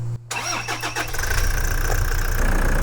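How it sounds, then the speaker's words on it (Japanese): Camper van diesel engine cranking with a starter whine, catching after about a second, then settling into a steady, close, rumbling idle. "エンジンつけます。"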